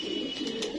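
Pigeons give a short, soft cooing murmur, faint and close, with a couple of light higher chirps or rustles over the low steady coo.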